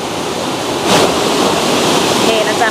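Steady rushing of a flowing stream, close and fairly loud, a continuous wash of water with no talking.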